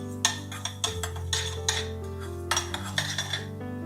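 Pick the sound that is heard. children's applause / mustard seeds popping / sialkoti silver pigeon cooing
mustard seeds popping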